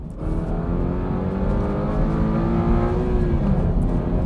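A Toyota GR86 sports car engine hums and revs steadily at close range, a low throaty drone with a slight rise in pitch before easing off.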